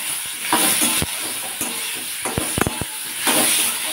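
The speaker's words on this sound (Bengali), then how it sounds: "এবার টমেটোগুলোই ওই তেলে দিয়ে দিলাম, দিয়ে টমেটোগুলোকেও ভালো করে ভেজে নেব।" Green tomatoes dropped into hot oil left from frying potatoes, crackling and sizzling close up, with sharp pops and a few clinks of a utensil against the pan, loud and uneven, no speech.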